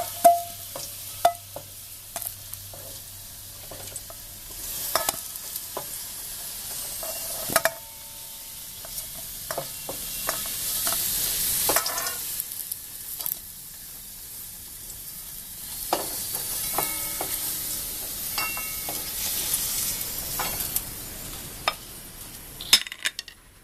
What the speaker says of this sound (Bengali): আলুটা ভাজা হয়ে গেছে দেখেন।